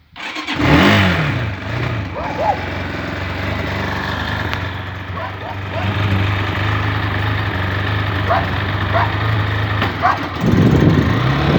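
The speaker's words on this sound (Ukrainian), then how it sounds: "Заводимо мотоцикл." A motorcycle with a broken clutch cable starts up close by, then runs at a steady rumbling idle, with a louder rev near the end.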